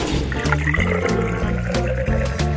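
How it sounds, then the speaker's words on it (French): Boiling water pours onto instant noodles in a steady, close splashing stream that stays even throughout. "Tout ce que t'as à faire, c'est de verser de l'eau bouillante."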